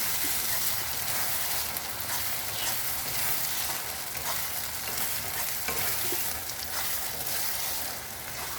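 Mann kochu paste frying in a pan, with a steady, dense sizzle and crackle throughout and the occasional soft scrape of stirring nearby.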